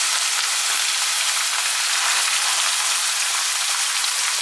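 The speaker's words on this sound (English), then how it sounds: "we just gonna brown our ground beef" Ground beef browning in a pan for an enchilada casserole, a steady, loud, hissing sizzle throughout with no pauses.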